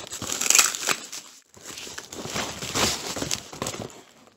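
Plastic bags crumpled and crinkled while being cleared away, a close, loud rustling with crackling bursts over about four seconds, pausing briefly midway.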